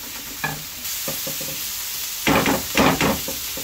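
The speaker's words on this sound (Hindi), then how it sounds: "इसको एक जल्दी सा तेज आंच पे हल्का सा फ्राई कर दूंगी" Onions frying over high heat in a pan, a steady sizzle broken by louder bursts of stirring and scraping toward the end, close up.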